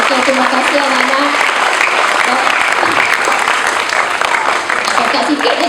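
Thunderous applause for a teacher at a school appreciation ceremony, many people clapping at once in a continuous loud wash that barely dips before the end.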